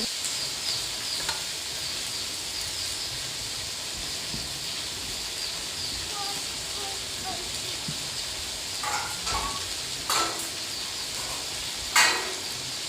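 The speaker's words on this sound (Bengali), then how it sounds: "এটা কিন্তু একটু হাতে সময় নিয়ে ভালো করে ভাজতে হবে।" Chopped banana flower and prawns frying in a pan, a low steady hiss of sizzling with a few scrapes and clinks of stirring toward the end, close but fairly quiet with no one speaking.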